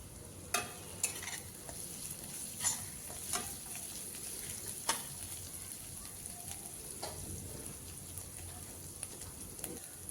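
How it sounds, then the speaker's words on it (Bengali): Onion paste frying in a pan for a Bengali pui chorchori dish, a steady low sizzle with a few sharp clicks of a spoon stirring, close and fairly quiet, no talking. "প্রথমে পেঁয়াজ কষিয়ে নিতে হবে।"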